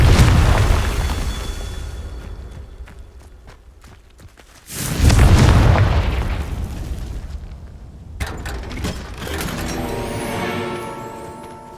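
A Confringo blasting spell explodes in Hogwarts Legacy, with two loud booming bursts a few seconds apart, each decaying into rumble, followed by softer crackling and ringing game effects.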